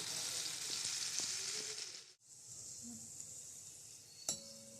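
Mihidana batter frying in hot oil on a low flame, a steady loud hiss with faint utensil taps, briefly cutting out midway before the sizzle resumes, ending with a sharp clink.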